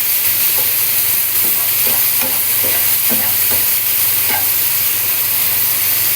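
Table butter with korarima spice sizzles and fries steadily in a pan, a dense continuous hiss with faint stirring scrapes and pops, close and loud throughout with no talking.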